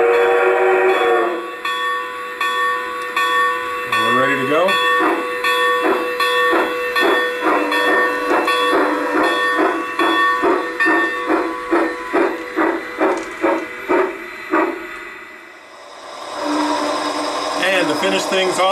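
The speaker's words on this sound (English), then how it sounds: "Get our bell going and give a couple of toots of the horn" A G-scale model steam train's bell clangs in a steady rapid rhythm over hissing steam, with whistle toots at the start and end; someone speaks briefly.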